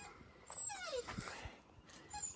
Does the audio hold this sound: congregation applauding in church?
no